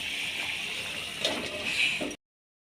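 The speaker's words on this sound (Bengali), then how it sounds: "আমি জল দিয়ে দিচ্ছি" Water is poured into a pot of fish curry with potatoes, aubergine and drumsticks, a short, steady gush with light gurgling and sloshing that stops abruptly after about two seconds.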